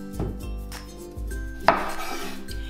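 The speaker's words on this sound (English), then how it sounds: "Begin by taking your Organixx zucchinis and slice off the ends." A knife slices the ends off Organixx zucchinis on a kitchen board, giving a few sharp cutting knocks and clicks. Music plays underneath, and no one speaks.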